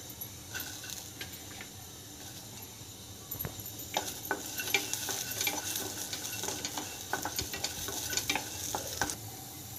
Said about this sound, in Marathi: कोरडी मिरची भाजली तरी छान भाजते।